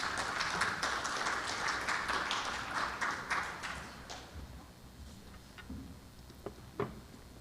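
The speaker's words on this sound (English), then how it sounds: "let's give her a round of applause" An audience claps for Suzanne Green at a children's model and talent showcase, a busy burst of applause that thins and dies away after about four seconds, leaving a quiet room with a few scattered taps.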